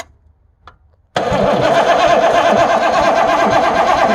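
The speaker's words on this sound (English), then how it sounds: "See if this motor even turns over." An old wood truck motor, fitted with a GIS wood gas system, comes to life after a second of near silence and then runs on as a loud, steady mid-pitched engine drone, close to the listener.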